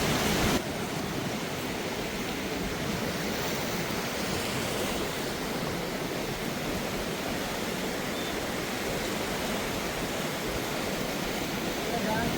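Ib river running high with a rising water level, a loud, steady broadband rush of flowing water that stays constant and close throughout, with no voices.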